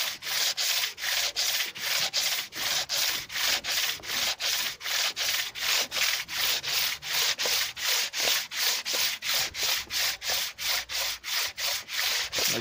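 Engine cylinder head being scraped and cleaned, a fast run of evenly spaced rasping strokes, loud and close, steady throughout with no talking.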